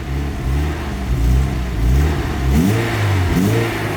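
A VW Golf GTI engine revs repeatedly as the car is driven in, with rising and falling harmonic engine tones close by and loud, no talk.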